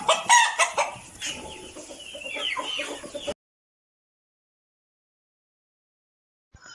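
Several chickens cluck and squawk close by for a few seconds, then everything drops to silence.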